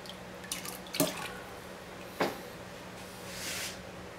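Ceramic glaze poured during raw glazing and decorating of pottery, heard as a few brief liquid splashes and drips, a sharper burst near the start and another a moment later, then a soft trickling swell toward the end, fairly quiet with no talking.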